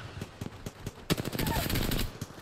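Automatic weapon fire in the battle royale game Apex Legends: a quiet, evenly spaced run of sharp shots that grows into a faster, louder burst of rapid fire.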